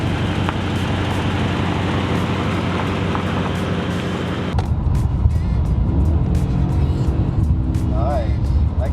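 A Chrysler 300 on a test drive after a thermostat replacement, with a steady engine and road rumble heard from inside the cabin and a quieter interior hum in the second half. A voice is heard briefly.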